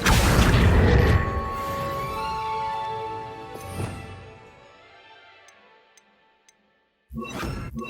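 A summoning spell cast on enchanted books in the Hogwarts Legacy video game sets off a loud magical whoosh and rumble that fades over several seconds, with a few faint ticks, then a sharp renewed burst at the end.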